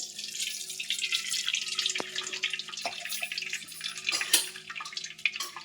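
Cool water poured over freshly strained noodles while making veg hakka noodles: a steady splashing run of water lasting the whole stretch, with a few light clinks of a vessel or utensil partway through.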